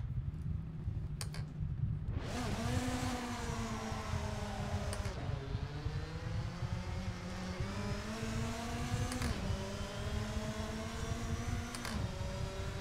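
Race car engine in a racing video game, a steady loud drone rising in pitch with acceleration, brief drops at gear shifts, heard close with no talk.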